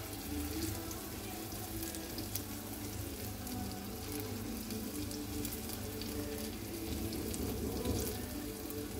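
Buckwheat-battered chicken pakoda frying in hot oil gives a steady, even sizzle and bubbling that lasts throughout at moderate volume, with no talking.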